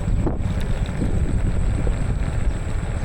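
A Xiaomi Electric Scooter Pro ridden at full throttle, heard as a continuous rush of wind buffeting the microphone with a faint motor whine underneath, steady and loud throughout.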